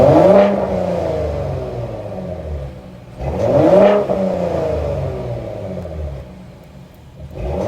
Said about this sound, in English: Ford actually provided audio of this new engine sound provided by this new exhaust system.